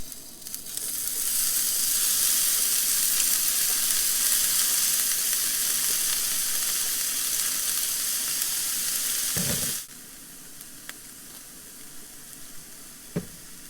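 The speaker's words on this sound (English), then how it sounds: "let's put the shrimp in here" Shrimp drop into a hot pan and fry with a loud, steady hiss for about nine seconds, then the sizzle falls to a quieter crackle with a few clanks of utensils, cooked outdoors while truck camping.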